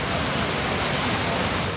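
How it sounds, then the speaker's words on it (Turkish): Steady rain falls in Zonguldak, Turkey, as a dense, even hiss of drops striking surfaces, loud and continuous throughout with no voices. "Zonguldak'ta günlerdir devam eden sıcak hava yerini yağmura bıraktı."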